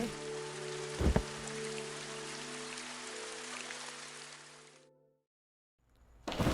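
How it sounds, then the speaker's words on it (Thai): Rain falling in Minecraft, a steady dense patter of raindrops over a low droning tone, continuing for several seconds before cutting to silence and then returning abruptly. "ฝนเริ่มตกละ"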